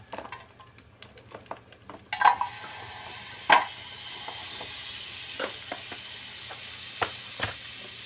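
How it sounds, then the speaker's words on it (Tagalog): Margarine melting in a pan, a soft steady sizzle that starts after a couple of seconds, with scattered faint clinks and scrapes of a utensil, quiet and close. "Bali magtutunaw lang tayo ng isang kutsarita margarine"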